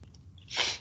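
A single quick sneeze, faint and slightly distant, bursts out after a soft intake of breath in a quiet room during a meeting.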